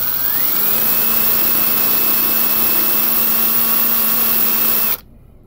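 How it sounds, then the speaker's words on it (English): A power drill with a stepped bit whines steadily at high speed while flaring and tapering the end of a tube for an RC catamaran driveline, loud and close, then stops abruptly near the end. "I use this stepped bit so I can thin the end of the tube out and kind of taper it"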